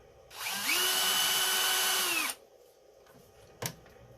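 A power driver whines steadily for about two seconds while backing out small screws from the rear C-hub of a Traxxas X-Maxx RC truck, followed by a brief sharp click.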